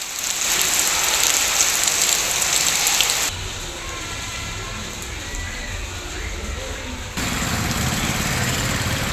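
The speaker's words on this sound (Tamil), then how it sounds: "காலை முதலே வானம் மேகமூட்டத்துடன் லேசான சாரல் மழை" Light drizzling rain falls steadily under a cloudy morning sky, a soft continuous hiss that drops in level midway and then returns, with no voices.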